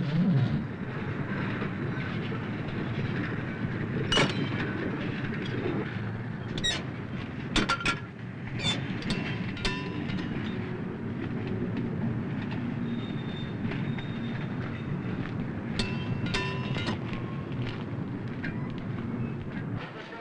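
Railway wagons roll through a marshalling yard, a steady low rumble with scattered sharp metallic squeals and clanks of wheels and couplings, heard at moderate distance for the whole stretch.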